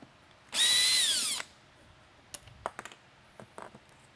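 A power drill backs out Torx screws from the polycarbonate base of a SoundOff Pinnacle Mini lightbar, one loud close whir of under a second with a falling pitch, followed by scattered small clicks and taps of parts.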